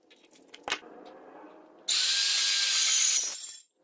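A power tool cuts a luxury vinyl plank stair tread: a sharp knock, then a loud high-pitched cutting whine that runs about a second and a half and stops abruptly, with no voices.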